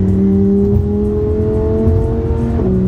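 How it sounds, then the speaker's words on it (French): A car engine revs and pulls hard while overtaking a Ford Mustang during the Gumball 3000 rally near Miami, its loud, close drone climbing steadily in pitch with a brief dip near the end. "Bravo, Edouard, tu as doublé une Mustang."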